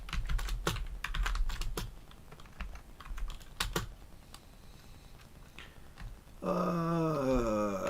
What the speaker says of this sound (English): typing on a keyboard is like totally alien to me now